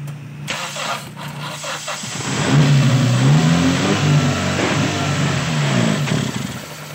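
A Toyota car with a hard-starting fuel delivery problem cranks briefly on the starter, then catches and revs up and down steadily for several seconds, loud and nearby with no talking.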